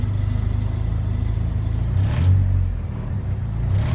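A car engine idles steadily nearby with a low, constant rumble and hum, broken by a brief clatter midway and a faint noise near the end.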